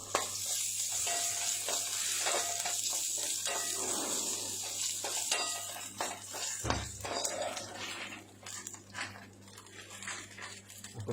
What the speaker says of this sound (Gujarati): તો આવી રીતે આમાં બેંગન પધરાવી થોડા સોટે કરી લેવાના છે આમાં।